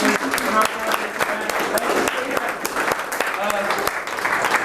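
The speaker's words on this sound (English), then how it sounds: "can we give a round of applause to the Stephen the Swift?" Audience applause for a performer at a poetry reading in Cedar City, a dense steady wash of clapping from a crowd with voices and cheers mixed faintly into it, sustained throughout.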